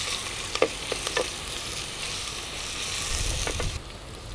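Garlic and ginger frying in a pan while being stirred, a continuous close sizzle broken by a few sharp scrapes and taps of the spoon, the hiss thinning briefly near the end.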